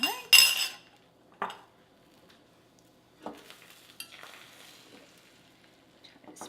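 Food dropped into a hot oiled pan with a sharp burst of sizzle, then quieter clinks and scrapes of utensils against the pan and brief renewed sizzling.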